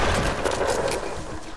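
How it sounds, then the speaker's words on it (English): Sustained SMG fire in a two-versus-one video game match, a fast continuous stream of loud rattling shots running through the whole stretch and easing slightly toward the end. "you need to stop spamming with your freaking SMG"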